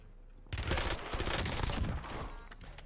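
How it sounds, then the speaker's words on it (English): A rapid burst of gunfire in Call of Duty Black Ops Blackout erupts after a brief silence, a dense volley of shots lasting about a second and a half before tailing off. "Incoming shots."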